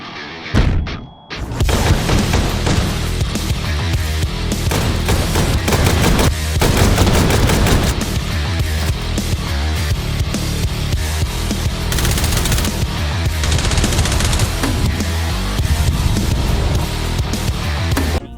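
Rapid, dense gunfire in a breaching simulator in Hotdogs Horseshoes & Hand Grenades, loud bursts and repeated shots running almost continuously with booming thumps, no talk.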